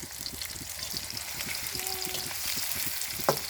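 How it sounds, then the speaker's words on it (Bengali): Onions fry in a pan with a close, crackling sizzle full of small pops and spatters, steady throughout with a sharp tap near the end and no talking. "পেঁয়াজটিকে আমরা একটু ভেজে নেব এখন"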